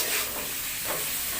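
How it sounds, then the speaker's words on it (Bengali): Shrimp sizzle briefly in a hot pan during a home cooking of pointed gourd in coconut milk, a close, steady frying hiss with a faint stir, no talking. "আমি একটু ভাজা ভাজা করে নেব চিংড়ি মাছগুলো।"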